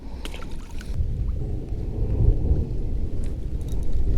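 A thunderstorm on the water while fishing for bluegill: a steady low rumble of thunder and wind-like roar with faint rain patter, continuous and moderately distant, no talking.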